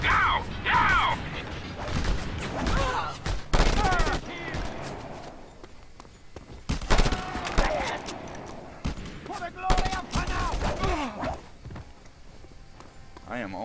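Gunfight in the open-world action game Just Cause 2, with scattered bursts of gunfire and mechanical clatter mixed under frequent excited talking throughout.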